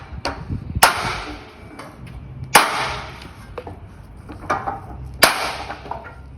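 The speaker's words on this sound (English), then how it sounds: "grab a bit of wood and a hammer," Sharp hammer blows on a wood block knock an aluminium slat profile onto a gate frame, three loud strikes spaced a couple of seconds apart with lighter taps between, close by and without talk.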